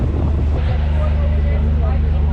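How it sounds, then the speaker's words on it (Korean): Wind gusts buffet the microphone on a moving ferry in Istanbul, a loud rushing roar over a low engine rumble, with brief voices at the start. "시원한 바람이 이렇게 부니까 너무 기분이 좋네"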